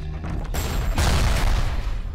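Gunfire aimed at a Big Daddy in the video game Bioshock Remastered, a loud rapid burst of shots with booming impacts that swells midway and keeps rattling to the end.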